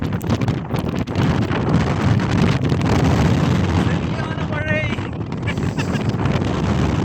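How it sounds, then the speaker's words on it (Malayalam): Strong wind roars and buffets the microphone in a loud, continuous rush during desert rain at Al Madam, with a faint voice briefly audible beneath it. "നല്ല കാറ്റുണ്ട്"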